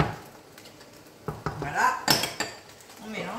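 Cream being mixed in a pan for pasta sauce, utensils clinking and scraping against the metal in short, irregular strokes, close up with soft stirring between.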